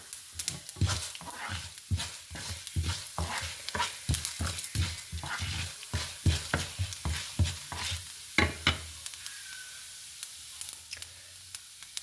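Urad dal and cumin seeds frying in hot oil for a Kerala koottukari tempering, heard as rapid crackling pops and sputters up close that thin out toward the end, with no voices.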